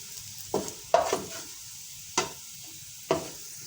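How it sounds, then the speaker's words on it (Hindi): Onions frying to golden brown for Muradabadi biryani pulao, a soft sizzle punctuated by four distinct stirring scrapes and clinks of a spoon against the pan, close and moderately quiet. "अब इसको फ्राई करने गोल्डन होने तक हम इसको फ्राई करेंगे।"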